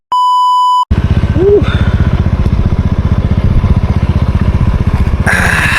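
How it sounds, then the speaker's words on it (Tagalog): A rented Honda Beat scooter in El Nido, Palawan starts after a short electronic beep and then idles with a steady, rapid, close putter that stays loud throughout. "Yung motor pala na inarkilahan ko is Honda Beat."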